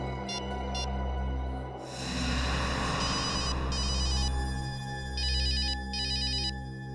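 A telephone ringtone chirps in short repeated electronic bursts, several rings in pairs across the stretch, set over a loud, droning low hum.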